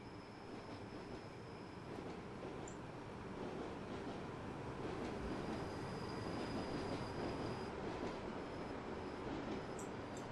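A Rhaetian Railway train crossing the Albula Viaduct on the Albula Line between Thusis and St. Moritz in Train Simulator, heard as a continuous rolling rumble with faint wheel squeal and a few light clicks, fairly quiet and steady.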